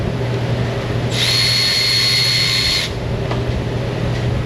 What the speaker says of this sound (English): That's a quarter drive with a little quarter drive socket.